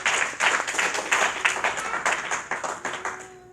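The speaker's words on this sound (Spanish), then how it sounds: "dar un aplauso al Señor" A church congregation claps during a Spanish-language worship service, producing a dense, moderately loud burst of overlapping hand claps with a rhythmic pulse that tapers off at the close.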